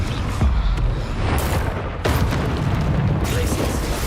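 Confringo blasting spell in the Hogwarts Legacy game: a continuous rumbling stream of booming explosions, loud and dense for about four seconds, with fresh bursts near the middle and a voice audible under the noise.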